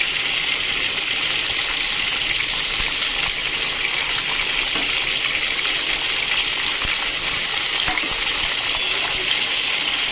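Tomato and ginger frying in a pan, a steady dense sizzle with a constant hiss and no pauses, close and moderately loud.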